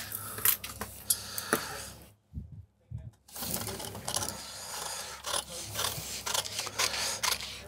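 Scissors cut out a paper shirt pattern at a bespoke shirtmaker's, up close with crisp snips, paper rustling and handling noises, a short quiet gap and then more cutting.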